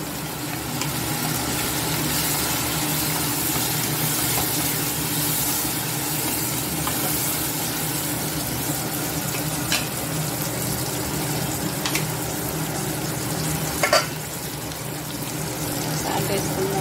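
Tomatoes hit a hot pan while cooking aloo paneer curry, giving a steady, continuous sizzle with faint scraping as they are stirred, and a brief sharper clink near the end.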